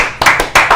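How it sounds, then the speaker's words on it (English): A few loud, close hand claps greet a guest on a talk show, three or four bursts in under a second, spaced unevenly with brief gaps between them. "Round of applause for our special guest today, Mr. Brian Bell himself from the Texans."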